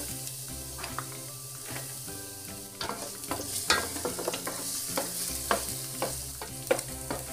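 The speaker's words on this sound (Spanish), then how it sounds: "Vamos a sofreír cuidando que no se nos queme hasta que tome un tono doradito." Chopped garlic fries in olive oil for nopales al ajillo, a soft continuous sizzle punctuated by repeated spoon scrapes and taps from constant stirring, with background music underneath.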